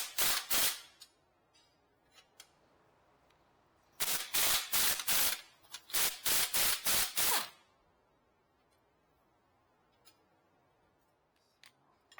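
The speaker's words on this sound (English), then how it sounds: "when you hit them with a 18 millimeter socket and extension half inch and a 21 millimeter wrench" A socket wrench with an 18 mm socket and half-inch extension ratchets on the lower control arm bolts of a 2005-2011 Cadillac STS, giving loud bursts of rapid clicks in three groups separated by quiet pauses.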